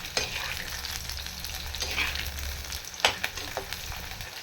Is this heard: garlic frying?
yes